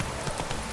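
A horse clip-clops in The Witcher 3: Wild Hunt, a brief run of soft hoofbeats under a dense game soundscape.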